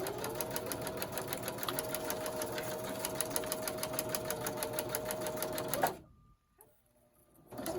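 A sewing machine back-stitches an envelope made from toilet paper packaging, a fast, even mechanical rattle running steadily for several seconds before stopping abruptly, followed by near silence and faint handling noise.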